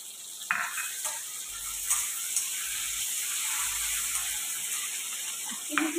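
Chopped onion for chili chicken sizzles in a hot pan, a steady soft frying hiss broken by occasional stirring clatters, moderately quiet and close.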